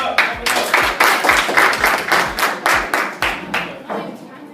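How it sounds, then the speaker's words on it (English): A group claps in a steady, rhythmic beat, sharp repeated hand claps close by, about a dozen in a row, gradually fading. "So clap it up, clap it up."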